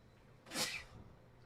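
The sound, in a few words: sneeze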